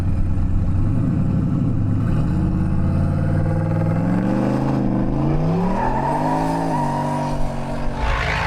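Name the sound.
turbocharged 6-litre V8 VS Ute engine revving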